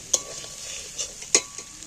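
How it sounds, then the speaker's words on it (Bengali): An egg fries gently in oil in a pan, giving a quiet, steady sizzle. A couple of sharp utensil taps and scrapes stand out near the start and just past the middle. "একটু ডিমটা হালকা করে ভাজলে তাহলে ডিমটা একটু নরম নরম হবে"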